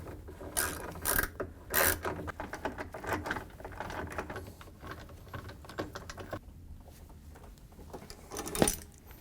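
A 1/2-inch socket ratchet tightening nuts on a GE washer door boot seal, quick close bursts of clicking pawl ticks with brief pauses between runs, fairly quiet.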